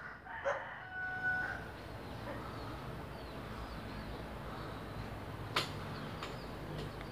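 A rooster among farmyard chickens crows once near the start, fairly distant and soft over steady outdoor background noise, with a few faint clucks or calls later.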